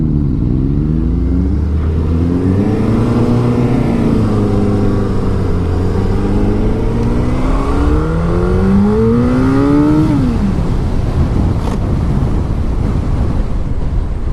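A 2016 Hayabusa 1340cc motorcycle engine accelerating through rising and falling revs with audible gear shifts, close and loud beneath heavy wind rush, with no talk.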